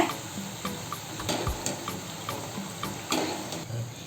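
Maida diamond-cut snacks fry in hot oil, a continuous bubbling sizzle with soft, regular stirring strokes and faint ticks of a utensil against the pan, close by.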